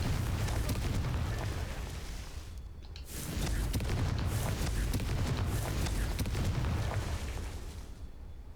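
Confringo fire spell explosions in the game Hogwarts Legacy, loud dense blasts and crackling rumble with a brief dip partway through, then more sustained booming.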